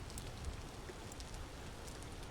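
Steady rain in the survival game Vintage Story, a soft, continuous hiss of drops pattering on surfaces with faint scattered ticks, quiet and even throughout with no voices.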